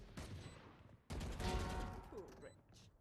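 Gunfire in the video game Valorant, a sudden rapid burst of shots that stays loud for a second or two, with the players' voices faintly mixed in.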